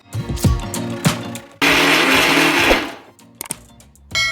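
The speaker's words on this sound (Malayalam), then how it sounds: "എന്നിട്ട് ഇത് നല്ല സ്മൂത്തായി ചങ്ക്സ് ഒന്നും ഇല്ലാതെ അടിച്ചെടുക്കാം." A blender whirs loudly and steadily for about a second and a half as it purees mango, banana, milk, yogurt and sugar into a smoothie, amid brief kitchen clatter before and after.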